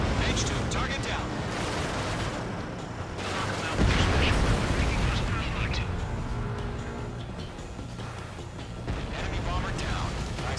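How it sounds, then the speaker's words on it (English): Explosions and gunfire from an aerial dogfight video game as an enemy bomber is shot down, with a deep booming blast near the middle over continuous loud combat noise and radio-style voices. "Enemy bomber down."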